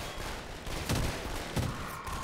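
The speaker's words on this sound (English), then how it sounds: "And this sound of this gun is epic." Two punchy gunshots from a weapon in Garry's Mod, from Gasmask's Armory Redux, fire about two-thirds of a second apart over a steady hiss of game ambience.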